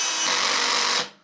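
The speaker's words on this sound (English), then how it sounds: "Let's see if we over drill this one little screw here." Greenworks cordless drill with the clutch set to its lowest setting drives a tiny 1-inch screw, a short, close, high-pitched whir lasting about a second before cutting off.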